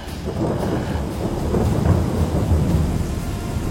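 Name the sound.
thunder crack with rain in audio story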